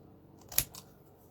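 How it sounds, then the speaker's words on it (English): A single crisp snip of long scissors closing on paper, sharp and close in a quiet room. "You can use your trimmer, or you can take a long scissors"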